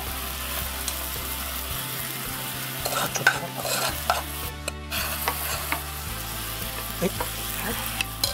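Ingredients stirred in a frying pan over high heat, a steady sizzle with scraping and light clinks of utensil on pan, close by, with brief speech and a low electrical hum underneath.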